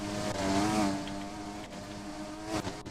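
A McLaren race car engine from a Formula-style racing video game drones steadily throughout, with harmonic engine tones rising and holding, near and moderately loud, and no talk.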